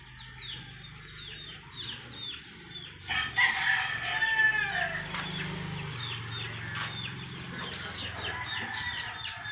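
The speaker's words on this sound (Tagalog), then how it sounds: "Kailan natin isabong yan, Col?" A rooster crows repeatedly amid a noisy farmyard with other fowl clucking, the crows fairly close and clear over steady background noise, with no talk.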